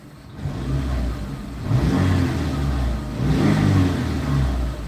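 2005 Chrysler PT Cruiser engine, slightly shaky, revved up twice from idle, each rise swelling and falling back, close and fairly loud with no voices.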